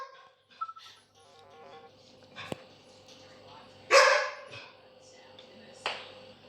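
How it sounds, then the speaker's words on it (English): A dog gives a few scattered, fairly loud barks and yips indoors. Someone talks between the barks. "That's just my dog."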